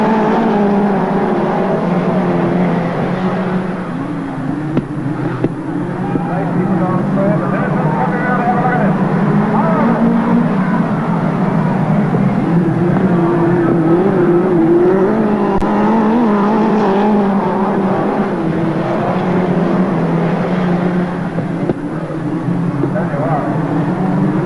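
Midget race cars at Western Springs Speedway roar around the track in a continuous, loud engine drone that rises and falls as they pass, with an announcer's voice running over the noise throughout.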